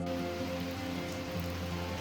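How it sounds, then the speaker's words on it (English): Heavy monsoon rain falls on a morning after a night of strong winds, a steady, even wash of drops that continues without break, with low hums underneath and no talk. "We had such heavy rain and strong winds, I couldn't resist capturing this beautiful view."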